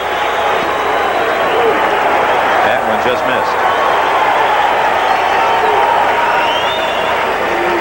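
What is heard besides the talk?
baseball stadium crowd cheering and applauding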